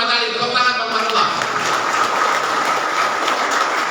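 An audience at a Betawi community gathering for the Prophet's birthday breaks into applause for Bang Manullah, a dense, steady burst of clapping that swells after a brief moment and carries on.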